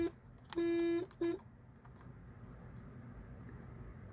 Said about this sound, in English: after so long of playing the CQD or the SOS